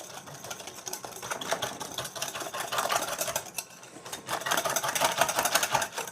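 Flour and egg yolk mixture whisked fast in a bowl, a dense, continuous whirring rattle close by with steady rhythm, pausing briefly midway before resuming.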